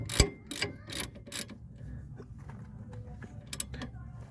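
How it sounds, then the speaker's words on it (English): A ratchet and socket tighten a bolt on a 2012 Dodge Charger's front suspension: a few sharp clicking bursts up close, then quieter mechanical creaks and a couple of final clicks. "then you just grab your socket and your crescent wrench, or not your crescent wrench, your ratchet,"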